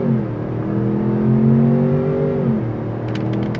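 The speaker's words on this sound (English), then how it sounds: "We can try one out off the line in sport mode on the gas" A 2026 Ford Expedition Platinum Ultimate accelerates hard from a standstill in sport mode, its loud engine drone rising steadily in pitch, then dropping at a gear change near the end.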